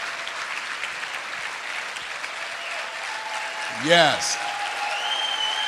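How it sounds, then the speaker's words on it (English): A live seminar audience in Las Vegas gives loud, sustained applause, a dense wash of clapping and cheering that continues throughout while a voice calls out briefly over it. "Let's give him a tremendous round of applause, if you please."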